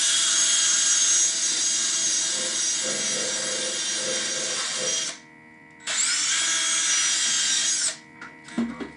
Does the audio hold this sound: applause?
no